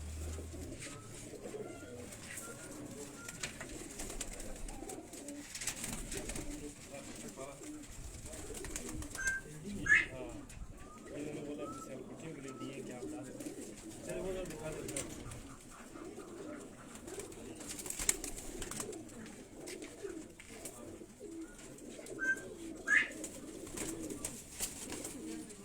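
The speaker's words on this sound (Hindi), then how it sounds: "ये कबूतर दोस्तों आप देख रहे हैं" Pigeons cooing steadily at a fancier's home loft in Quetta, soft repeated low coos from several birds close by, with someone talking over them throughout.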